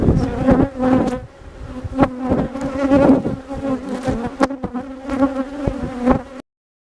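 Honeybees buzz loudly and steadily around an open hive during a mid-March inspection, a dense close drone with wingbeat hum and occasional knocks of frames being handled.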